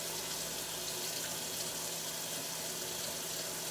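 Tap water runs steadily into a cup held at a sink while a Yorkie is being bathed, a soft, continuous splashing rush heard faintly and unbroken throughout.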